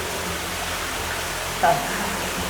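Water flows continuously inside Belum Cave at the underground Patala Ganga stream, a steady even rushing wash that fills the space, with a brief faint voice near the middle.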